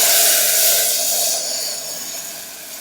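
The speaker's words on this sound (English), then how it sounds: "And now I'm gonna take it off the heat and add our liquids." Liquids poured into hot caramel just taken off the heat, producing a loud steamy hiss that slowly fades over a few seconds.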